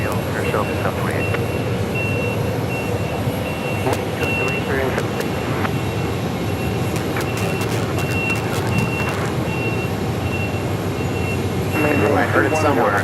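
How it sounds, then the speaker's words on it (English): A fuel truck backs up at Phoenix Sky Harbor Airport, its reversing alarm beeping in a steady repeating pattern over a constant roar of aircraft and engine noise. "It's a fuel truck backing up."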